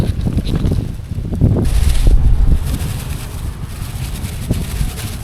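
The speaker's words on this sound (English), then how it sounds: "That's a 34-mile-an-hour headwind, or gusting, 24 miles sustained." Strong gusting headwind buffets the microphone on the Paul Bunyan State Trail during a bike ride, a loud, close, low rumbling roar that swells and eases with each gust.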